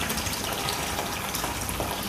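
Warm water pours steadily and loudly for a home steam remedy, a continuous close gushing splash with no pauses and no voices.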